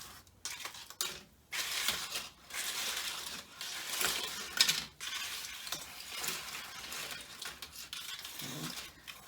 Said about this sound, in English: we're going to transfer all of our chips back into the pan. I like to use a little fork to kind of help me scrape it in